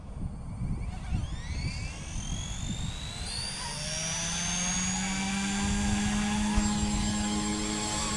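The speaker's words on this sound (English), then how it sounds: "This is a 6-channel brushless helicopter." An XK K130 6-channel brushless RC helicopter flies outdoors on a windy day, its rotor and motor whine rising and sweeping in pitch as it takes off and hovers, steady and moderately loud against wind noise.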